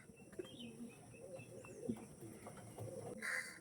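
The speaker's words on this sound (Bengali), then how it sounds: "অরিজিনাল মঙ্গলগিরির পায়রা দেখে নিন" Mangalgiri pigeons cooing softly in low, repeated calls, with faint chirps nearby and no talk.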